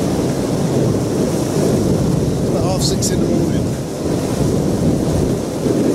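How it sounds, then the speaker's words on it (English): Strong wind buffets a hilltop wild camping spot on a wet, windy morning, a loud constant roar with gusts that swell and ease throughout, while someone talks over it. "Oh, it's proper windy here."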